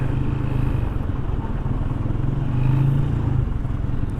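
A motorcycle rides along a road with a close, steady engine drone and a constant low rumble that never drops away, heard alone without talk.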